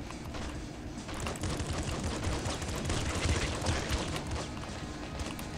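Rapid gunfire from a weapon in the video game Nuclear Throne, a dense steady barrage of shots running throughout at fairly even loudness.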